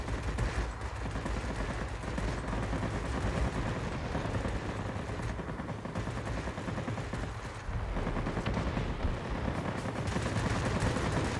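Aircraft guns firing at ground targets in World of Warplanes: rapid, sustained machine-gun bursts over a constant engine drone, loud and close, with a short break in the middle.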